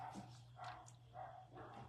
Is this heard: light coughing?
no